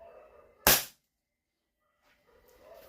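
A Staccato 3.8 airsoft pistol fires once over a chronograph: one sharp, close crack that cuts off into silence, with faint murmuring background before and after.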